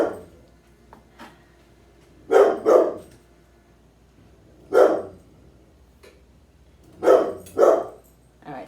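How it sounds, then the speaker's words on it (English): A dog named Cooper barks in a home kitchen, loud and close: a pair of sharp barks, a lone bark a couple of seconds later, then another pair, separated by quiet pauses. "You guys don't have to hear Cooper barking."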